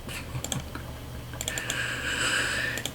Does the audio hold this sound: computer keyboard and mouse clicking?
yes